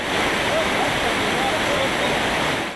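The Lyazhginsky waterfall roars in a dense, steady rush of falling water, loud and close, with a voice faintly heard beneath the torrent.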